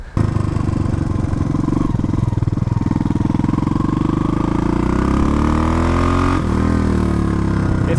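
A Yamaha bobber motorcycle engine runs steadily while being ridden, a loud, continuous close-up drone whose pitch rises and falls gently through the ride, with no talking over it.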